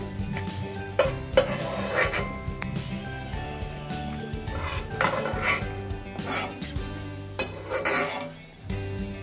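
Steel utensils clatter and scrape against a pan while lightly fried pieces are lifted out of ghee for sheer kurma, with repeated sharp clinks at irregular intervals over a steady kitchen background.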